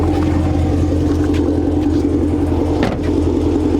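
A 6th-generation Camaro SS V8 fitted with Kooks longtube headers rumbles loudly and close, a dense, throaty low exhaust note with slight rises in revs throughout.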